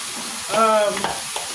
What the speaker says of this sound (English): put my peppers in here.